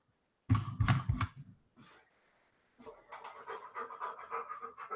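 A dog pants in quick, heavy bursts close by indoors, with a brief pause before softer, rapid breathing resumes and continues steadily.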